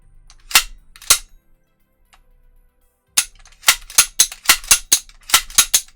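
A pump-action AR rifle fires two sharp shots, pauses, then fires a fast burst of about nine cracks in quick succession. The reports are loud and close with silence between them.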